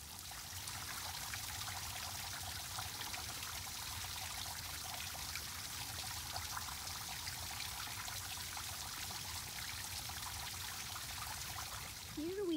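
Waterfall at Limestone Gorge flowing after rain, a steady broadband rush of falling water that holds constant throughout, fairly close, with a brief voice creeping in at the very end.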